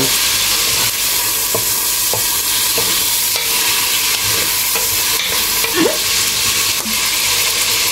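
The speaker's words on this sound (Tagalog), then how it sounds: "Luto lang din ang pansit pampahaba ng buhay." Pansit noodles are stirred and fried in a pan, producing a loud, steady sizzle with frequent scrapes and taps of the utensil against the pan, close up and uninterrupted.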